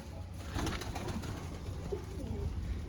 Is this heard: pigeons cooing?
yes